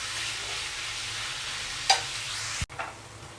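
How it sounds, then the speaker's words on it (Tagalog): Pork pieces sautéing in melted butter in a pan, a continuous close sizzle with a couple of sharper clinks and scrapes of a utensil near the end, no voices. "Para lang natin siya ginisa sa butter."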